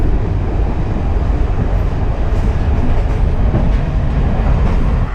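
A train rumbles steadily and loudly through Peradeniya railway station, a continuous low roar with faint clatter, close by and without talk.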